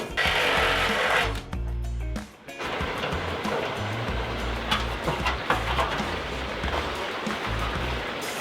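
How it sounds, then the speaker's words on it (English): A power drill enlarging a hole for an RTD connector in a pellet smoker's hopper assembly, a loud steady motor whine with a short stop before it starts up again, close and continuous. "what I'm going to do is get my drill out"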